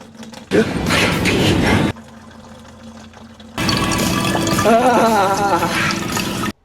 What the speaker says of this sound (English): I'll pull that off and we'll get this coolant draining